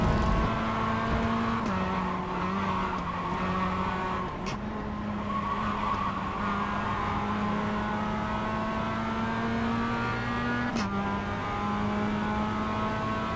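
Race cars roar steadily through a racing video game, engines droning with shifting pitch and occasional gear changes, loud and continuous without talk.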